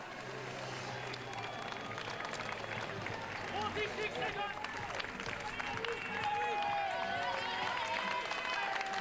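Spectators applauding and cheering at a women's triathlon race in La Baule, with continuous crowd clapping and noise under a commentator's voice.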